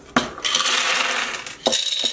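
A large handful of Dungeons & Dragons dice rattle and clatter loudly in a dice cup, first in one long shaken burst and then in a shorter second burst, with no voices.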